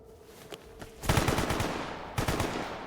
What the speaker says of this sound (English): I can fire this thing pretty much as fast as I can click